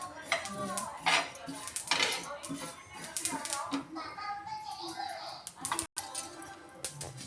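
Roasted black sesame seeds are scraped from a pan onto a plate with a metal spoon, giving a busy run of close clinking and scraping taps with a brief break near the end.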